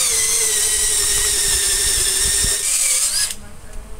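Power drill whining steadily as it bores into a kitchen ceiling, loud and close, with thumps underneath, its pitch dropping as the motor winds down near the end.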